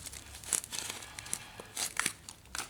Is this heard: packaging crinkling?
yes